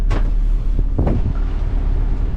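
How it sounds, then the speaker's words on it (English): Wind buffeting a microphone aboard a boat cruising the Trent-Severn Waterway, a loud low rumble with gusty bursts over the hum of the motor and the water. "The wind is picking up a bit."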